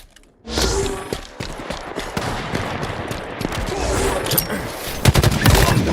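Gunfire in a Halo team slayer video game match: dense, continuous automatic shooting with rapid cracks and bursts running nearly the whole clip, loud and close, with occasional heavier thumps.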